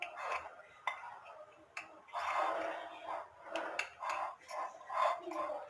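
Ingredients for Moroccan seffa are mixed in a bowl, with utensil scrapes and clinks against the dish coming in irregular bursts at close range.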